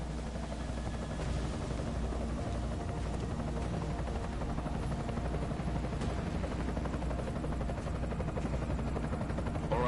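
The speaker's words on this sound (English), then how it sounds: "Enemy helo sighted." An enemy helicopter in the video game Deus Ex: Mankind Divided drones with a continuous rotor thrum that stays steady and moderately distant throughout, with no talk over it.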